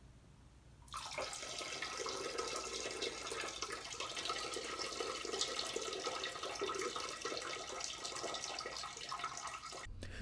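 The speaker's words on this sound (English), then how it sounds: "let's hear a little excerpt from when I took a piss a couple minutes ago" A steady stream of urine splashes continuously into toilet bowl water, starting abruptly after a quiet moment and running evenly for several seconds before cutting off, close and moderately loud with no talking.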